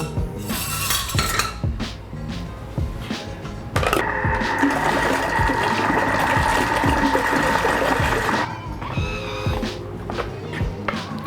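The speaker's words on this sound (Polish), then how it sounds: "Mam to akurat pod ręką taki lepszy blender." A blender whirs loudly for several seconds, pureeing pumpkin to a smooth mash with a steady high whine, then slows, amid kitchen clatter and knocks before and after.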